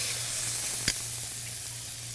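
Veal chops sizzle on a preheated grill plate, a steady close hiss of searing meat with one brief sharp tick partway through.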